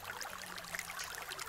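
A river sound effect from a role-playing game mixing interface: a soft, steady rush of flowing water that stays faint and even throughout, with no voices.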